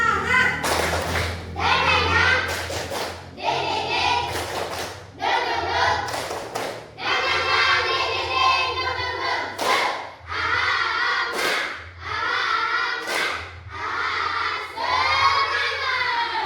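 Schoolchildren in a classroom perform a rhythmic clapping chant, loud group claps in quick bursts alternating with shouted chanted syllables, the pattern repeating several times with brief pauses between rounds.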